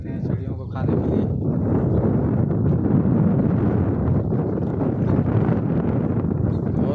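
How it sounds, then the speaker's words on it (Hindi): Strong wind roars steadily into the microphone outdoors among stones behind a large mosque in Saudi Arabia. The buffeting stays loud and dense throughout, with gusting rumble. "तेज हवा चल रही है"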